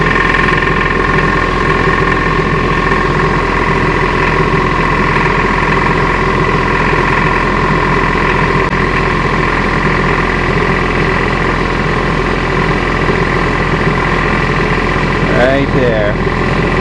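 A Harbor Freight 3 hp compressor head mounted on a Sears compressor runs steadily, a loud continuous mechanical drone close by with no break.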